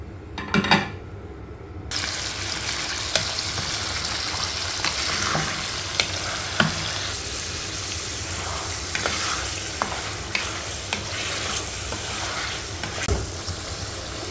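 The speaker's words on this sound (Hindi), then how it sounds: "अब इसके अंदर मैं बोनलेस चिकन ऐड करती हूँ, तकरीबन 1 kg के करीब है।" Boneless chicken, about a kilogram, fries in half a cup of oil in a karahi, giving a steady loud sizzle throughout with occasional stirring clinks and scrapes, no talking.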